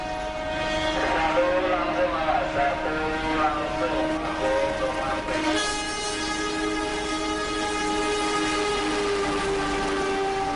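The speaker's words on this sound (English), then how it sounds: "See, a train is approaching." Approaching train sounds its horn, the sustained harmonic blast shifting in pitch partway through, loud and close over rumbling track noise with no speech.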